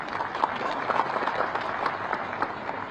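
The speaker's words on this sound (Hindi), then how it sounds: "इनके लिए ताली बजा दीजिए" An audience at a university gathering claps together, a steady, moderately loud patter of many hands that continues evenly for a few seconds.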